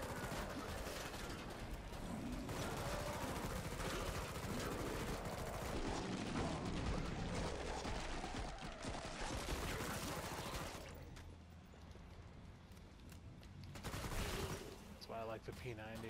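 Rapid H&K submachine gun fire in the Killing Floor 2 zombie shooter, dense continuous bursts with mechanical clatter that run loud for about ten seconds, thin out briefly, then flare up again near the end.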